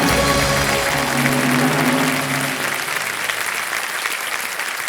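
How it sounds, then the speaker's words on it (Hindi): Studio audience on the KBC Season 14 game show set claps in steady, dense applause that holds loud throughout, with a host's voice faintly mixed underneath early on before the clapping thins slightly toward the end. "ताली पहले करिए।"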